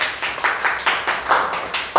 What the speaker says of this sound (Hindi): वेरी गुड, ताली बजाइए एक बार